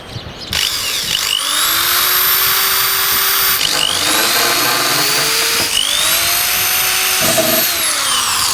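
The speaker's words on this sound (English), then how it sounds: "So I'm just going to drill that now." A power drill bores through a campervan roof to fit a skylight, whining loudly and close in three long runs that rise in pitch as the motor spins up, with brief pauses between them.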